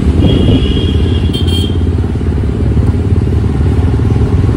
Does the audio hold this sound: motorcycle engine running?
yes